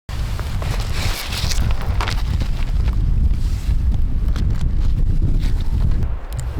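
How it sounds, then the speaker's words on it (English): Strong wind roars and buffets the microphone in freezing, snowy mountains with a heavy low rumble, loud and constant, with no voices. "it's usually always windy"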